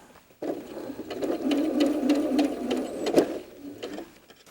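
A sewing machine stitches pieced quilt block rows for a Fifty Four Forty or Fight block. The motor whirs steadily for a few seconds, then slows and stops, with faint mechanical ticks throughout.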